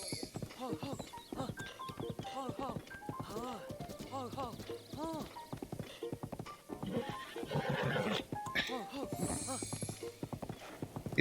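In the video game Breath of the Wild, a royal horse gallops with rhythmic hoof clip-clops and lets out neighs. The game audio sits mostly under continuous voices talking over it.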